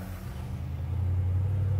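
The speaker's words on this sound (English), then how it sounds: "Exhaust sounds good on it. It's got a pretty good rumble to it, but it's not real loud and obnoxious." A 1967 Chevrolet C10 pickup idles with a steady, low exhaust rumble, close and fairly even, building slightly in level, with no talk over it.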